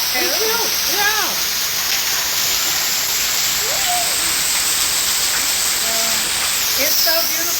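Rushing water from waterfalls pours as a continuous loud hiss, with people talking close by over the roar.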